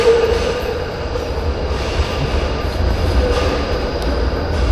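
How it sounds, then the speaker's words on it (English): A tram rumbles past at close range on a Melbourne street at night, a steady heavy drone with faint wheel squeal and rattling, no voices. "We just missed the tram."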